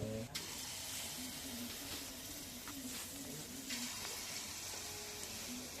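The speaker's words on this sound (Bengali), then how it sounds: "আস্তে আস্তে সবগুলো ভেজে নিব এভাবে।" Palm fruit fritters (tal bora) fry in oil on a clay stove, giving a steady, close hiss and sizzle with occasional soft pops throughout, without speech.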